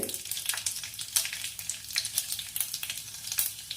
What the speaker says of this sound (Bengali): ফোড়ন হিসেবে দেব 2টো তেজপাতা, 2টো লঙ্কা, শুকনো লঙ্কা, কিছুটা সাদা জিরে